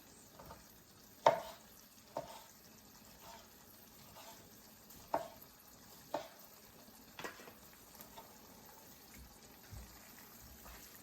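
Chicken goes back into a pan of Alfredo sauce finished with Asiago cheese, giving a faint, low sizzle under scattered sharp utensil clicks and scrapes spread across the clip.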